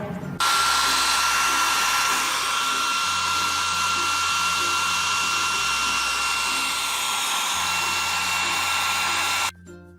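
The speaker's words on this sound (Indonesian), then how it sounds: "Bisa dikipasi, bisa juga dengan menggunakan hair dryer." A hair dryer blows steadily on homemade litmus paper made from red cabbage and hibiscus, a loud continuous whirring hiss that cuts off abruptly at the end.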